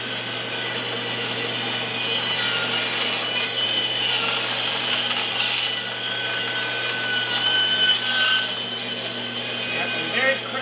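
A hand saw cuts diagonally through a log to trim off waste wood for snowshoe making: steady, rasping back-and-forth strokes, close and fairly loud, continuing throughout without a break.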